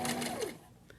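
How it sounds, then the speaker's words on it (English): A sewing machine stitches forward while sewing a grocery bag holder, a brief steady whir in the first half that winds down and stops within about a second. "I'm going to sew forward."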